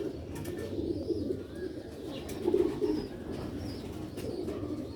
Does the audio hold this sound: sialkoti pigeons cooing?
yes